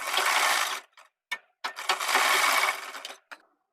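Sewing machine stitching the cuff of a small boy's kurta: close, loud runs of rapid stitching broken by short taps and pauses, with no voices.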